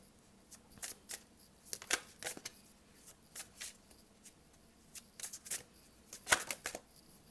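Tarot cards riffled and shuffled by hand in a spiritual reading, a run of crisp, papery bursts and flicks coming in uneven clusters, close and fairly quiet, with no talking.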